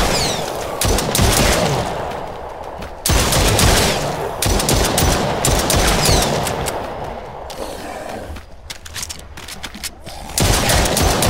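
Rapid bursts of gunfire from the Roblox Brookhaven video game, loud and dense fusillade-like volleys with brief gaps around 3, 8 and 11 seconds, no talk over them.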